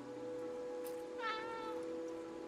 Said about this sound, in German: Miau ich jetzt?